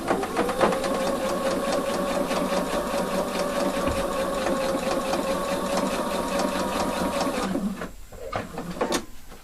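A sewing machine stitches a convertible collar in one fast, even run of close rhythmic whirring clatter lasting about seven seconds, then stops, followed by brief handling sounds.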